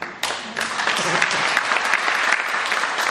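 Devotees at a Hindu religious discourse on the Chaitanya Charitamrita break into loud, sustained group clapping that starts abruptly and continues steadily for about three seconds, with no voices audible.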